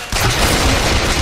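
Gunfire in the video game Bioshock Infinite bursts in right away as a loud, dense, close volley. It keeps up a continuous roar of shots and booms for about a second.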